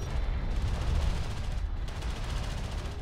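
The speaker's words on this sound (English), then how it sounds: "Light attack vehicle is under fire." Gunfire rattles in the desert combat strategy game Deserts of Kharak, a continuous spread of rapid shots and distant blasts at moderate volume, with no voices.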